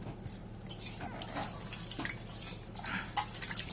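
Water pours close by in a Bengal village home, a steady running splash with a few louder gushes and drips, and no voices over it.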